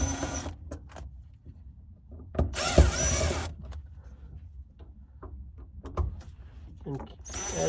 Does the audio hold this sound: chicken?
no